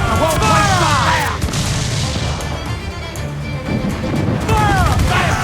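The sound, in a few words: ship cannons firing in the video game Assassin's Creed Black Flag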